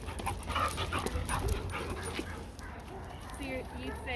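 Two dogs play together, with small yips and whimpers mixed into steady rough-and-tumble noise, close by; a person talks over the activity.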